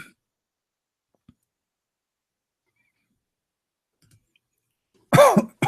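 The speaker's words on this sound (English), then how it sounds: "Sorry for coughing, guys." A single short burst of coughing near the end of a long quiet stretch, close and fairly loud, followed by a brief second sound cut off at the end.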